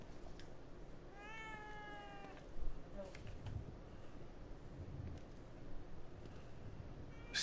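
A cat meows in a video game, a single drawn-out wavering meow early on, followed by softer scattered sounds over a quiet hissy background.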